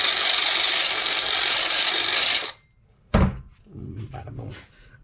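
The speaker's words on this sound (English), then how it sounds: "And of course, deburr." A metal edge on a homemade ignition coil and key relocation bracket for a 2009 Harley-Davidson Sportster is deburred with a steady, loud rasping scrape for about two and a half seconds, followed by a sharp clunk and softer handling noises.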